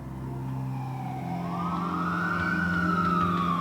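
An ambulance siren wails with a slow rising and falling tone over the low rumble of the vehicle's engine, growing steadily louder as it draws near.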